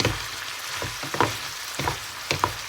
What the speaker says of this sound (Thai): เราก็มาผัดคลุกเคล้าให้เข้ากันนะคะ